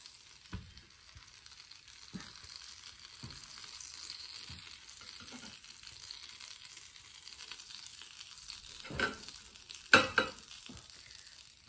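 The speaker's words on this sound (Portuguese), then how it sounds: "Essa manteiga aqui, eu vou usar simplesmente para poder selar o nosso pão." Bread sears in butter in a pan for a misto quente, giving a steady soft sizzle with faint crackles and a few clinks of a utensil near the end.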